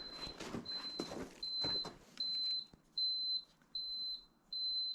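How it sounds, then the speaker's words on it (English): A Cat 247 skid steer sounds a repeated high warning beep, steady short tones at a regular rhythm, alone and fairly faint after some brief knocking at the start. "Oh, I'll turn that beep on, that's really annoying."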